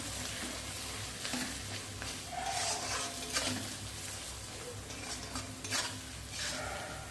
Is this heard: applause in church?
no